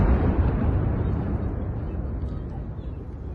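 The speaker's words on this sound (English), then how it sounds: "We can hear it out in the distance, of course, the same explosions as before." Dull, continuous low rumble of distant explosions from war footage in Ukraine, heavy in the bass and rolling steadily without distinct sharp blasts, gradually easing in loudness.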